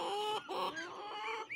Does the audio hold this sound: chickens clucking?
yes